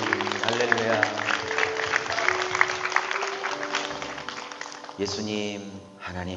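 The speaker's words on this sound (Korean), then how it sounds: "우리 하나님께 박수로 영광 드립니다" Church congregation clapping in praise during a Salvation Army revival service, with sustained applause mixed with music or voices underneath, then shifting to tonal singing or instruments toward the end.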